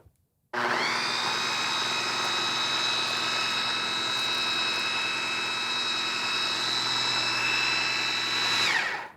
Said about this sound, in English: I'm just constantly scraping the sides of the food processor bowl just to make sure everything gets blended well